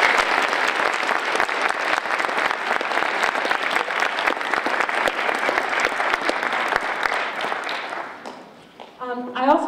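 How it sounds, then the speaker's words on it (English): Middle school band winter concert audience applauds the 7th and 8th grade players, a loud, sustained wash of many hands clapping that fades near the end as a voice begins speaking. "Can we give a round of applause for them?"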